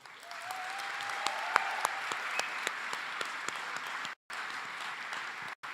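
A graduation audience gives a steady round of applause, a dense, even wash of clapping from a large crowd at moderate distance, with brief cuts near the end.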